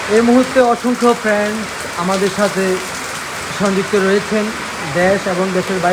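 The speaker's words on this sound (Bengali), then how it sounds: "কী পরিমাণ যে বৃষ্টি হচ্ছে বাইরে" Heavy rain from Cyclone Remal pours steadily at a riverside ghat, a constant hiss beneath someone speaking throughout.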